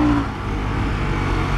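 A Harley-Davidson Sportster S motorcycle engine runs loud and steady in sport mode, a close, dense roar with no voices over it.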